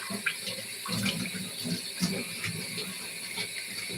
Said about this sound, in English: I'll be doing good if I can wash every dish.